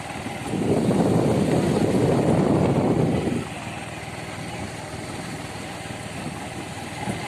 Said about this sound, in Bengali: এক হাতে আমি বাইকটা চালাচ্ছি